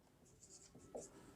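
Pen writing the given values of a math problem on paper, brief soft scratching strokes heard up close and quiet, with no talking.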